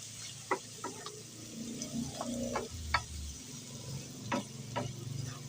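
Filipino bopis is stirred in a hot pan, giving a soft, steady sizzle broken by scattered spoon scrapes and clicks against the pan. The sound is fairly faint.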